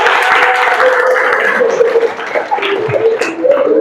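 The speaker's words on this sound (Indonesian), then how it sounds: "Kita berikan dulu aplaus" Applause from an audience at a university teaching session, a loud, close patter of clapping hands that swells and thins over a few seconds, mixed with faint tonal background sound.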